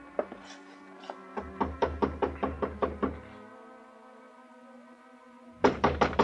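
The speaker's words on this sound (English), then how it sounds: "climbed the stairs, and knocked on her door" Knuckles rap on an apartment door as a radio drama sound effect: a steady run of about a dozen crisp knocks, a pause, then another quick burst of knocks.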